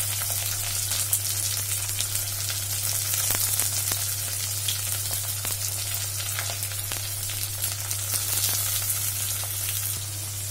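Chopped garlic sizzling in oil with browned onion and chopped tomato for an eggplant tok jhal, a steady close frying hiss with a low hum underneath and scattered crackles, no voices.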